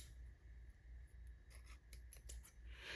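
Scissors cut decorative trim for a Valentine's craft project: a quick run of crisp snips comes close and clear over a low background hum, with no talk.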